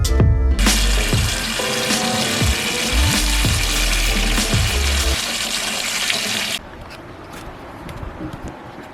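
Water from an outdoor tap gushes into a container, a loud continuous splashing rush with shifting pitch as it fills, then cutting to a quieter trickle and drips for the final seconds.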